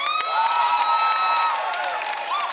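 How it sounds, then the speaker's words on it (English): A woman, a Bethesda employee sitting in theater seats, cheers loudly and without a break at a Fallout 76 multiplayer announcement, her whoops high and sustained over a general crowd noise, with a brief rising shout near the end. "this woman who is cheering at the news of multiplayer is a confirmed Bethesda employee"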